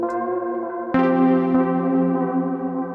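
A sustained synth tone from an Elektron Analog Four through a Collision Devices Black Hole Symmetry reverb, rich harmonics, retriggered partway through, its notes ringing out into a washy reverberant tail.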